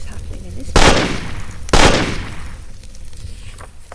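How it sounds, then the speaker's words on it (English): Two loud, sharp gunshot blasts about a second apart, each with a decaying rumble, form a battle sound effect against low background noise. "The sounds of firing and battle stopped"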